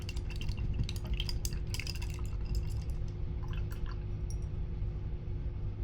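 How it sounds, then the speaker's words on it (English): An acrylic paintbrush is swished and rinsed in a water cup, giving soft dripping and sloshing sounds over a steady low background hum. "I'm going to wash my brush."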